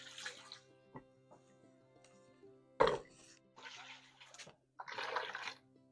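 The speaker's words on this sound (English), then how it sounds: "warm water from the tap." Warm tap water gushes into a Bosch mixing bowl fitted with a dough hook, in a few quiet bursts of splashing separated by pauses, with a low hum and a brief throat noise.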